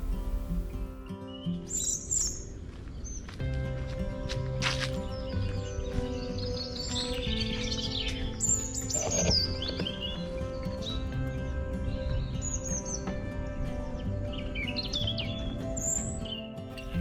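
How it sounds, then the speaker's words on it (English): Exotic bird calls, including white terns and gray herons, chirp and tweet through a mangrove forest in the Maldives, scattered high calls over a steady ambient bed with no voices. "The air fills with the calls of exotic birds, from white terns to gray herons."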